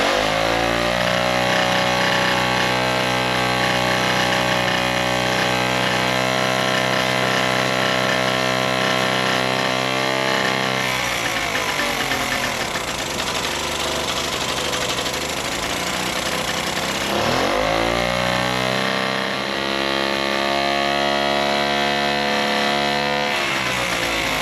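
A Solex moped engine fitted with a RACE electronic ignition runs steadily up close, a loud, buzzy two-stroke drone that revs up and settles back down twice.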